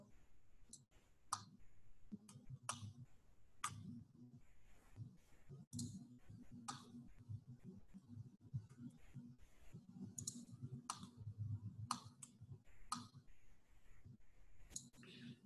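Sharp computer mouse clicks sound at irregular intervals during PolyWorks metrology software work, quiet and close beside someone speaking steadily throughout.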